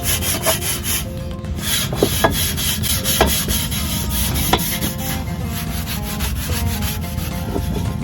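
Orange abrasive scrub pad scrubbing a pellet grill, a continuous close, loud rasping scour with steady back-and-forth strokes and occasional sharper scrapes.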